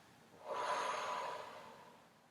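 A single deep, breathy exhale during a children's yoga session, close and soft, swelling then slowly fading.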